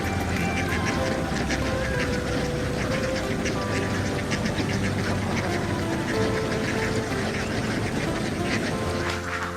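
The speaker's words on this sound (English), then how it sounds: "a flock of ducks, usually mature females, is allowed to search for food in harvested rice fields" Flock of ducks, mostly mature females, foraging in a harvested rice field, quacking constantly in many overlapping calls at moderate loudness, with a low engine hum under them.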